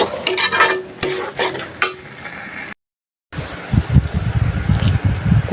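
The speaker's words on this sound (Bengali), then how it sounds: "মশলার সাথে শুটকিগুলো ভালোভাবে কষানো হোক" Dried ribbonfish is stir-fried with spices in a pan, with scraping and clattering of a spatula against the pan over a low sizzle. The sound cuts out briefly, then returns as busier stirring.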